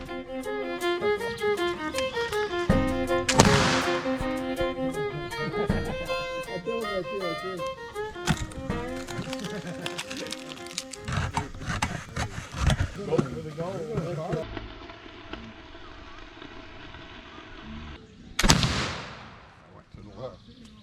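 Gunfire rings out from people shooting a course outdoors: repeated sharp reports, some in quick bursts, others spaced apart with echoing tails, loud and fairly close, with music-like tonal sound running underneath.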